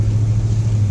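A Magnum 360 V8, a bone-stock unit with 138,000 miles swapped in to replace a 318, drones steadily while driving, with a loud, even low rumble and no breaks.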